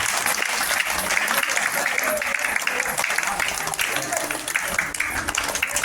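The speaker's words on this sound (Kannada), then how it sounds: "ಜೋರಾಯಿ ಚಪ್ಪಾಳೆ ತಟ್ರೆ, ಜೋರಾಯಿ." Schoolchildren at a primary school learning festival clap loudly together in a sustained, dense burst of applause, with a voice carrying faintly over the crowd.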